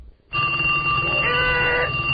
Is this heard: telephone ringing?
yes